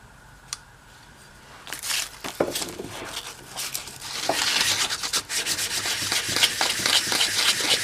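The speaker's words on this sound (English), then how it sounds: "I got to keep sanding that till these 4 points sand smooth going across" A Volkswagen Beetle carburetor part is rubbed back and forth against sandpaper, a faint scrape at first that builds into steady, close, rhythmic rasping strokes.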